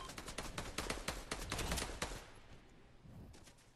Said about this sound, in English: is that you shooting or someone?